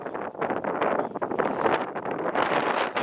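Strong wind buffets the microphone on a narrow mountain ridge in misty weather, a loud continuous roar that surges and gusts throughout without pause.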